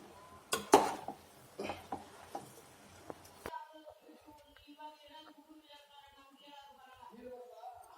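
Spoon scraping and clinking against a pan while vangibath rice is mixed with coriander leaves, with a few sharp metallic knocks early on, then quieter soft stirring under a faint background hum.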